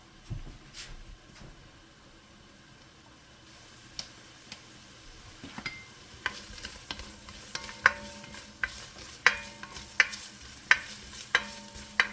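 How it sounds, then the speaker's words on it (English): Vegetables sauté in a pot for white turkey chili with a quiet, steady sizzle. Light spoon clicks and taps come faster and more regularly in the second half. "you're going to just let this saute a little bit, sweat it out, get it a little till it starts getting soft"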